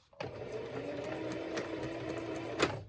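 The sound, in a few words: sewing machine stitching paper project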